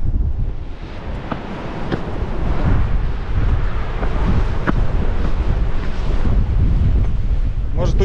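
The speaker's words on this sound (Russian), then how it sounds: "Но в море, конечно, ветер бушует" Strong wind blows hard across the seafront at Simeiz in Crimea, buffeting the microphone with a continuous loud roar and gusts, while surf and waves may be mixed into the rush.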